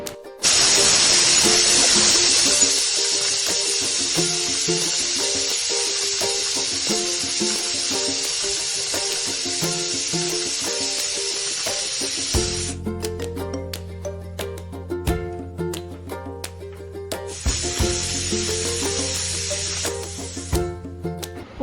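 A pressure cooker cooking chicken biryani lets out a loud, sustained steam hiss at the start that tapers off, then a second hissing burst returns near the end over a quieter low hum; no voices.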